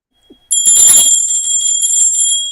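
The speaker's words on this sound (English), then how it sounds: "Ring that bell, would you?" A bright, high bell rings out suddenly and loud, its metallic tone sustaining and slowly fading, with a faint rattle as it is struck.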